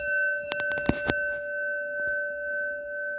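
A vintage Edwards Durabel 6-inch fire bell, no. 6000, sounds a few quick struck clangs followed by a long, steady ringing tone with sustained overtones and a faint pulsing undertone, close and clear.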